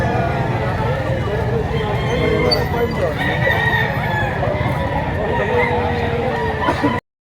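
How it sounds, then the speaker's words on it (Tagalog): A rooster offered for sale, a regular gray fowl about eleven months old, crows and clucks over busy market chatter and a constant crowd murmur, with people talking nearby the whole time. "Ito manok."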